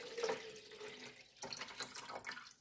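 Water poured into the tank of a new WMF coffee machine, a steady close splashing and trickling stream that lasts a couple of seconds.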